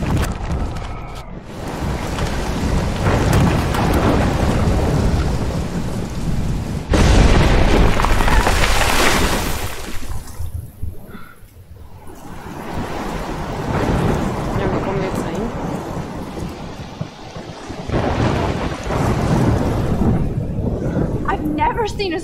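Thunderstorm with rain in the video game Life is Strange: loud, rolling thunder booms over a constant wash of rain and wind, swelling and fading in several heavy waves.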